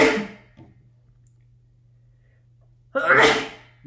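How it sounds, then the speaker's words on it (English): A short intake of breath, then a single loud, sharp sneeze up close after a quiet pause. "I feel like I'm gonna sneeze."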